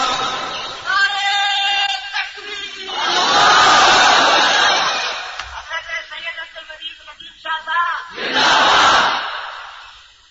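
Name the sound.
crowd chanting takbeer slogans in mosque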